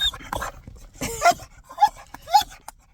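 A dog whimpers in the back seat of a car, giving several short, high, thin whines in an uneven rhythm over faint low background noise.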